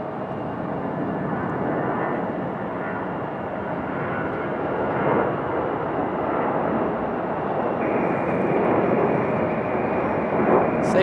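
A Delta airliner departing Raleigh-Durham International Airport for Charlotte gives off a steady, loud broadband roar of jet engines that holds through the whole stretch and swells slightly toward the end.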